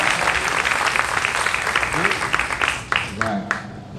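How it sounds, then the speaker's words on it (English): An audience at a Rowlett Sings 2024 event applauds, a dense steady patter of clapping, with a voice briefly audible over it toward the end. "Give him another round of applause"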